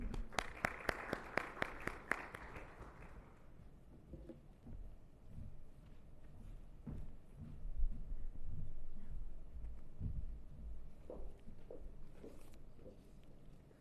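Audience at a cyber security summit opening session applauds: after a few sharp clicks, dense clapping at moderate distance carries on for about ten seconds as a soft, noisy wash.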